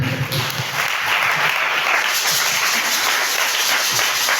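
A church congregation applauds steadily throughout, a dense, continuous wash of clapping that stays loud and even from start to finish, with no voices coming through.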